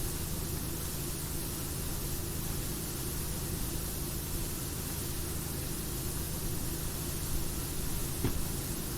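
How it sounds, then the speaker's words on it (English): Steady, unbroken hiss of a pressure washer spraying in PowerWash Simulator, a constant wash of noise at even level throughout with no talking. "The white noise is definitely making me sleepy."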